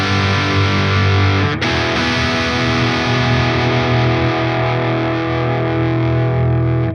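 Electric guitar played through a Friedman IR-X twin-channel high-voltage valve preamp with the bass control boosted, giving a loud, heavily distorted sustained chord that is re-struck once and rings thick and weighty in the low end.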